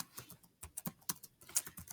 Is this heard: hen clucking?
no